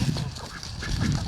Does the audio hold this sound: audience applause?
no